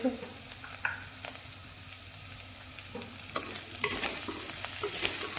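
Chopped garlic and onions fry in a pan for a bitter gourd sabzi, a soft steady sizzle with scraping stir strokes that grows louder and crackly toward the end.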